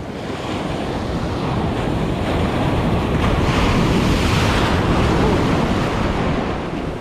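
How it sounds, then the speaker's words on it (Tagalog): Big ocean waves with strong wind at sea in an ultralight boat while fishing, a dense continuous roar of surf and buffeting wind against the microphone, swelling slightly mid-way and loud throughout. "Malaki ang alon dito."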